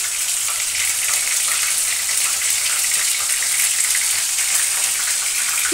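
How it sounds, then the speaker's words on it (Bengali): Bombay duck (loitta) fish frying in hot oil gives a loud, steady, dense sizzle that runs without a break, with no voices over it. "মানে ও ভাজতে লাগুক, তোমরা ভিডিও দেখতে থাকো, এক পিঠ ভাজা হোক।"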